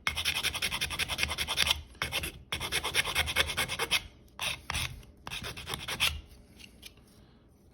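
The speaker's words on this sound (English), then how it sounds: "this piece needs a little bit of filing because it's not enough of a gap" Metal file rasping over a small awning window arm piece, opening a slightly too-narrow gap; steady back-and-forth strokes in bursts with short pauses, close and moderately loud, no talking.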